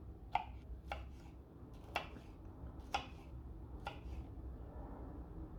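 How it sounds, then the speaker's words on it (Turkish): A knife taps against a cutting board in slow, evenly spaced chops through seeded peppers for pickles, about one per second, quiet and close over a low background hum. "Biberlerin çekirdeklerini çıkarttıktan sonra küçük küçük doğrayalım."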